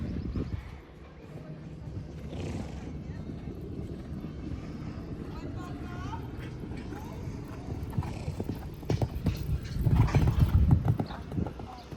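Horse hooves clip-clopping at a riding training camp, a steady rhythmic beat of hoof strikes that grows louder and closer near the end, with a person talking over it and a faint aircraft drone behind.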